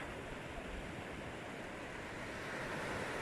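Sea waves wash steadily onto a quiet, uncrowded beach in Spain in summer, a soft, continuous broadband rush heard from some distance, faint and unbroken, with no voices.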